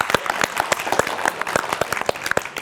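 An audience applauds during a televised book quiz show, a dense, steady patter of many hands clapping at close range, with no voices over it.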